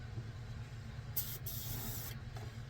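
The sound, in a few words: airbrush spraying lacquer thinner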